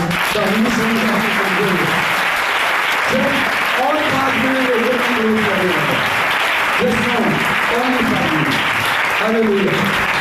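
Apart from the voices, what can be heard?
loud audience clapping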